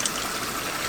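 Hot water at about 160 degrees sloshs and trickles as a dead hen is dipped in before plucking, a brief, close, steady watery wash.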